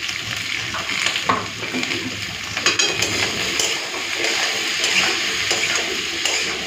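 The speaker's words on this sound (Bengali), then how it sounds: "প্রথমে সবজিগুলোকে কিছুক্ষণের জন্য একটুখানি ভাজা ভাজা করে নিই" Mixed vegetables with salt and turmeric frying in a pan, a moderate steady sizzle with light stirring scrapes and small spatters, close and unaccompanied by talk.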